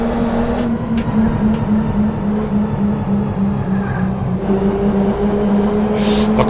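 Engine of a car in a driving video game, holding a steady high drone at constant revs throughout, with a slight shift in pitch midway and faint background noise.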